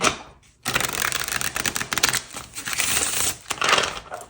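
Oracle reading cards being shuffled by hand, a near, crisp riffling and slapping clatter in several bursts with brief pauses between, no talking.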